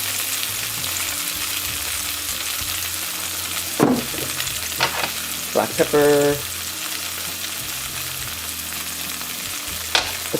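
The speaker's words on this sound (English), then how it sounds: "So as my egg is frying" Seasoned tofu, made as a vegan fried egg, sizzles in a pan with a steady frying hiss throughout, broken by a few brief utensil knocks and a short spoken phrase.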